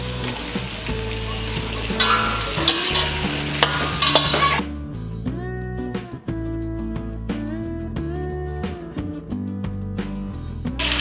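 Potatoes fry and sizzle in hot oil in a pan with green peas for aloo pulao, with a utensil stirring and scraping repeatedly, close and clear throughout.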